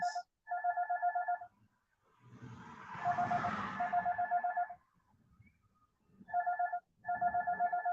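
A telephone rings in repeated warbling bursts, pausing briefly between them, while a passing car swells and fades in the middle.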